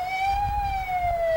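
A St. John Ambulance siren sounds during a 1994 Santa Claus parade in Sydney, a loud, steady wailing tone that slowly falls in pitch over low street rumble.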